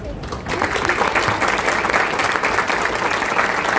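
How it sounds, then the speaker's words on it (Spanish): Steady applause from an audience at a university book launch, a dense continuous clatter of clapping that holds at an even level from start to finish. "pedir un aplauso también al profe Axel."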